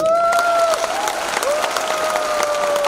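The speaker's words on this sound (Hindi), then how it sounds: "हमारे डायरेक्टर्स के लिए तालियां बजाइए" An audience applauds the directors at a Modicare business presentation in Patna, loud continuous clapping with a sustained tonal whistle or feedback line running over it.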